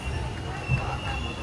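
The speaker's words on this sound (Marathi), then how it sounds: "फायनली आपली ट्रेन चालू झालेली आहे." A passenger train in motion gives a steady low rumble with a faint, continuous rolling noise, heard from onboard over a short stretch.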